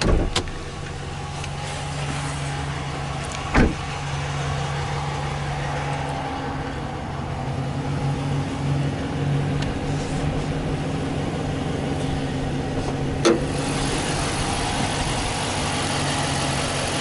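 A 2015 Ram 1500 Express's 5.7 liter V8 Hemi engine idles steadily with a low, even hum, close by, with a couple of brief clicks along the way.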